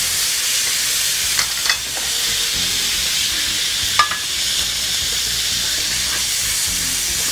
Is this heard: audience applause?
no